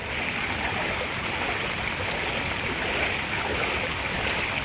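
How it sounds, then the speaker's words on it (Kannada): The Netravati River in Karnataka runs in flood after heavy rain, a steady, broad rushing roar of fast-moving water heard alone, without talking, at an even level throughout. "ನೇತ್ರಾವತಿ ನದಿ ಉಕ್ಕಿ ಹರಿಯುತ್ತಿದೆ"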